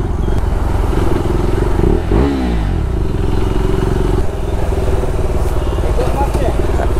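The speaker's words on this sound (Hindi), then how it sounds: "ये भाई अभी एग्जॉस्ट का नॉट सुनना चाहते थे, सुना दिया" A motorcycle exhaust rumbles loudly up close and is revved once in a quick rising and falling surge, then settles back into a steady throb.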